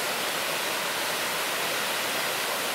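Steady, loud broadband roar of the waterfall at Iron Creek Falls, a continuous rushing wash of falling water with no pauses or voices, close and enveloping throughout.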